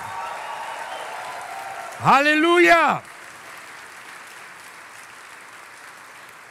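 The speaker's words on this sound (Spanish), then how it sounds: "vamos a aplaudir, denle un grito de júbilo al Señor" A church congregation applauding during a worship service: steady clapping runs beneath the room, swelling as a voice shouts out in praise for about a second, then thinning to softer clapping.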